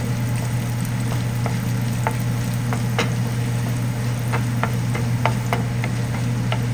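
Chana dal and dried red chillies fry in hot oil with a steady, even sizzle, broken by scattered sharp pops and ticks of a spoon stirring the pan, close and alone without talk.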